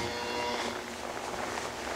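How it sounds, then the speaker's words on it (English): A herd of cattle approaching in a cow-cutting session, lowing and mooing over a constant outdoor rumble, with no clear speech. "Here come the cows."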